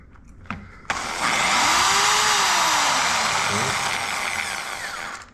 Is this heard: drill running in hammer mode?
yes